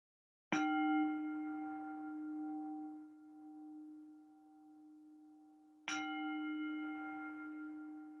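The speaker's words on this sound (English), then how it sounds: "So listen for the bell." A single mindfulness bell struck twice, each ring sounding a clear resonant tone that hangs and slowly decays, with the second strike coming about five seconds after the first.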